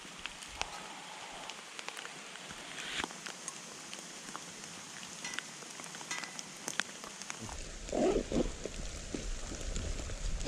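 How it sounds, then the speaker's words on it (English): Rain falling during a bush walk near a cave, a soft, steady patter of drops on leaves and surfaces with scattered louder taps. A few heavier rustling knocks come near the end. "Rain's picked up, but just gonna be drinking this and then moving on because yes, I'm getting a bit wet."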